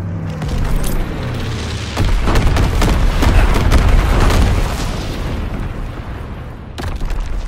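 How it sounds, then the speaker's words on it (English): Grenade blasts in a Call of Duty WW2 multiplayer match, heavy booming explosions erupting in quick succession with a dense rumbling roar that holds steady, then a fresh burst near the end. "Grenades first!"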